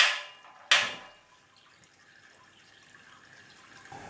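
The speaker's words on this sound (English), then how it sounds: "we'll let it drain a couple of minutes so it stops dripping" Liquid drains and drips from a beer-brewing mash, with two splashy bursts at the start followed by a soft, steady trickle that continues quietly to the end.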